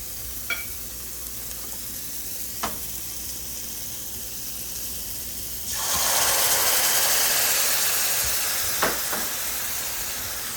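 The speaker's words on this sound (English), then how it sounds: "we're just gonna saute these for about 30 seconds" Steady sizzling from a hot pan as fish is sautéed, growing louder and broader partway through, with a few sharp clinks of a utensil against the pan.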